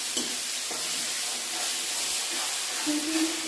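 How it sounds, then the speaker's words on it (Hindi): Spring onions fry with onion and spices in a home kitchen pan, giving a loud, steady sizzle and hiss with occasional stirring scrapes. "इधर मैं पत्ता प्याज को पका रही हूँ"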